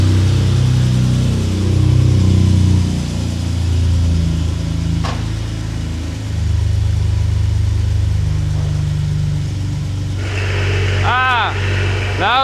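A BMW F80 M3 engine runs steadily nearby just after an ECU flash, idling with a low hum and a slight rise in revs, with a rising high whine toward the end.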